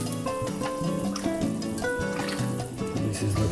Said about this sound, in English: You put some of that beef broth in there.